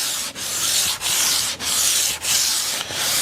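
Steady, close sanding of a wooden mid-century modern table top with 150 grit sandpaper, a continuous rasping rub broken by four or five brief pauses as the strokes reverse, with no talking.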